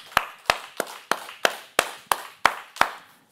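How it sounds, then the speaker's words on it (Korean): Ten slow, evenly spaced group claps from a youth congregation at a church Bible lecture, each a crisp unison hit with a short room echo and a brief pause before the next. "빨리 들어오시라고 박수"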